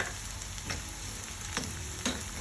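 Finely chopped garlic sizzles in hot tempering oil for a crispy corn dish, a steady close frying hiss broken by a few sharp clinks of stirring, with no talking.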